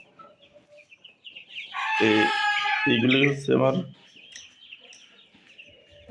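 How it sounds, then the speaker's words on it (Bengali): Fifteen-day-old Brahma chicks give thin, high cheeps close by, scattered before and after someone speaks loudly over them. "ব্রাহ্মা মুরগির বাচ্চা,"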